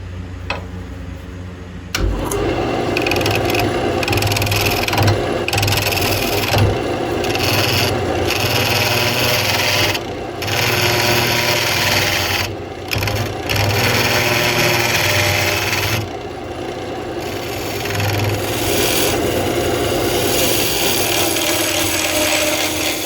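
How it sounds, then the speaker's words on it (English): Hollowing tool cutting into a spinning wooden bowl on a lathe, a continuous loud, close scraping and shaving roar with the lathe's hum beneath, sustained for the whole stretch apart from a short quiet start, with no talking. "I'm going to take my hollowing tool and I'm just going to try to start shaping these in"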